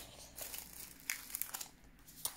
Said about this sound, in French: il vous suffit donc d'enlever le petit papier